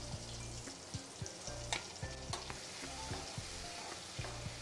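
Cumin, mustard seeds and a ground masala of garlic, red chili and salt sautéing in a pan, a faint sizzle with rhythmic, repeated scraping stirs and a few sharp clicks, no voices.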